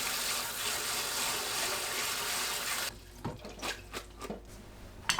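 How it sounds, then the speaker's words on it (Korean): Cold tap water runs steadily over boiled burdock root in a kitchen sink, a continuous rushing stream that stops partway, followed by a few wet handling sounds and soft clatters. "15분 삶은 우엉은 찬물에 헹굽니다."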